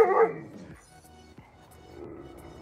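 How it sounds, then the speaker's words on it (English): An Alaskan Malamute gives one short, loud bark at the start, then only faint room noise follows. "that's how the Alaskan Malamutes, they bark"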